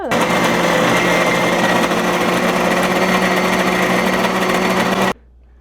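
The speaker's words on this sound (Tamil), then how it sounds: "சேர்ந்தோன்னு நீங்கள் மிக்சியில் போட்டு அரைக்க வேண்டியதான்." A kitchen mixer grinder grinds peanut chutney with a loud, continuous high-pitched whirring motor that runs steadily for about five seconds before cutting off abruptly.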